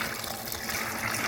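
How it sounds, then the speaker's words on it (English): A pump circulating ice water through a cooling coil for brewing Irish red ale gives a steady, faint watery trickle and rush, continuous and close. "It's circulating the ice. Oh. Ice water through the coil, and then out."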